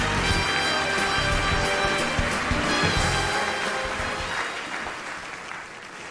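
Audience applause fills a show stage, dense and steady for about six seconds with a faint musical tone underneath, tapering slightly toward the end.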